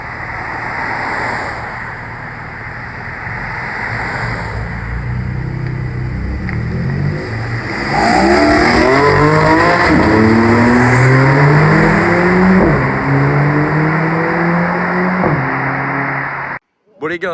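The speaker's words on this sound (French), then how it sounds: "le petit départ de la Spider et de la Emira" Two sports cars, a Spider and a Lotus Emira, pull away, engines rumbling then revving up through rising gears, loud and close, before fading with a brief dropout at the end; someone talks over the start.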